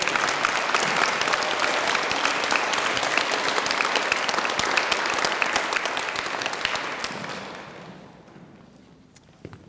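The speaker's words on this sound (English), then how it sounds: "let's give a round of applause for my class" An audience claps steadily at an elementary school DARE graduation ceremony, a dense, moderately loud round of applause that holds for several seconds and then tapers away to near quiet.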